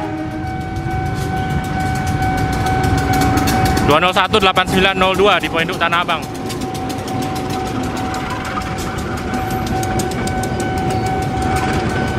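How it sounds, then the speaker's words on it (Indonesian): A train pulls into the Pasar Senen station level crossing with a continuous heavy rumble, a loud horn blast in the middle and steady wheel clatter, as someone talks throughout. "ada kereta api masuk nih"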